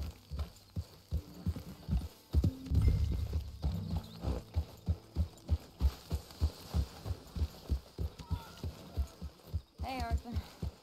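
Horse hooves in Red Dead Redemption 2 beat out a steady, even clip-clop throughout, with brief voices talking over the early part.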